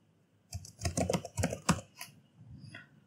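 Typing on a computer keyboard during a CSS coding lesson, a quick, close burst of clattering keystrokes lasting a couple of seconds before trailing off into a few lighter taps.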